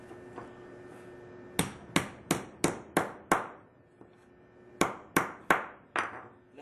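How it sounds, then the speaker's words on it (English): Sharp metallic hammer blows flattening the end of a copper pipe, a run of six evenly spaced strikes, a pause, then four more ringing hits, close and loud. "smash the end of each end down flat. Hammer."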